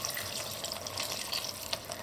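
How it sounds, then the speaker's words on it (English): Cold water running into a pot of lentil soup, a continuous close rushing stream with faint splashes throughout. "Now we cover all the pot with cold water"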